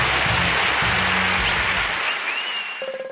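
Crowd cheering and applause from the Morgoth's Legacy video game, a dense, loud roar of clapping and cheers that fades toward the end as a short musical tone enters.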